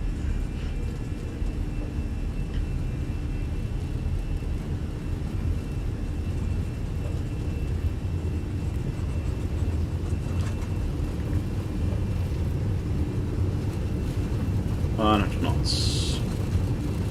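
Airbus A320 jet engines spooling at takeoff thrust on departure from Auckland, a steady loud broadband roar with deep low rumble heard from inside the cockpit, continuous throughout, with a brief tonal chirp near the end.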